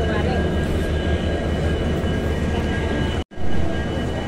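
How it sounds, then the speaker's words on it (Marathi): Platform ambience at Nanded railway station: a loud, dense wash of rumbling trains and crowd noise, steady throughout, broken by a momentary dropout near the end before the din returns. "तर हा नांदेडचा रेल्वे स्टेशन आहे मित्रांनो बघा"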